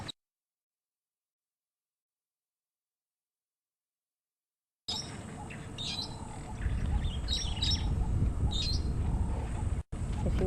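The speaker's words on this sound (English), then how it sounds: "If you're wondering what birds are chirping up above us, it's the brown-headed parrots mostly, making a lot of noise." Brown-headed parrots chirp and squawk overhead on a sunset safari, a chorus of repeated calls over steady outdoor ambience, starting abruptly after a long silence.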